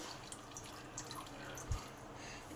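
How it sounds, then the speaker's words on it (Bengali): A cup of milk poured into a bowl of semolina batter gives a faint, soft liquid trickle with a few drips against a quiet background, with no speech. "এক কাপ দুধ দিলাম"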